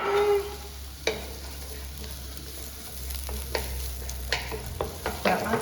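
Onion frying in a pan for Indian fried rice, a low steady sizzle with a few sharp clinks and scrapes of a utensil, close and moderately quiet, no talking.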